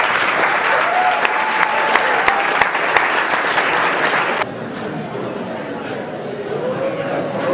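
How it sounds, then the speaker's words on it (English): Crowd applause at a robot competition, loud sustained clapping with some cheering, dropping in level midway while a voice talks over the continuing clapping. "So once again, a round of applause for Jonathan Diaz."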